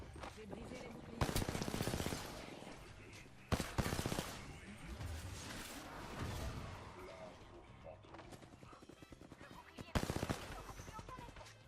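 Rapid automatic gunfire from a high-rate weapon in an online shooter game, loud bursts with a few heavier shots, heard under a French-speaking player's talk.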